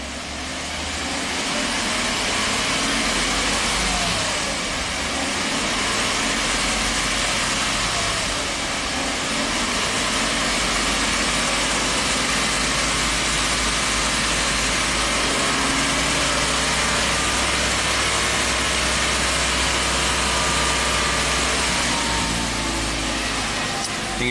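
A Suzuki XL-7 4x4 engine running during a driveline vibration check, a steady loud droning roar with deep low rumble and broad hiss, unchanging for the whole stretch.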